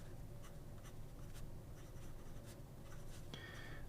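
Nettuno 1911 fountain pen with a 1.5 stub nib scratching steadily across paper, a close, quiet, continuous scritch with small strokes and lifts, heard alone.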